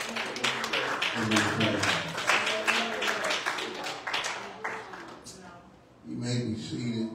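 Church congregation clapping hands together in praise, a dense run of claps under a singing voice and organ-like music, fading near the end before voices and music return.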